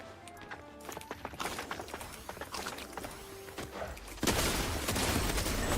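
Rapid, fairly faint gunshots from Fortnite Zero Build rattle in quick clusters, followed by a sustained louder wash of noise.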